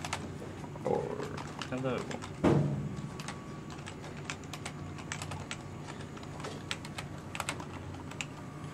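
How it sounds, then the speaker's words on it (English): Fingers tap out a short word on a PS2 computer keyboard wired to a UART relay setup, giving scattered crisp keystroke clicks, some in quick clusters, close to the microphone while a person talks briefly. "So if we type something like world or something, oop, I just typed it."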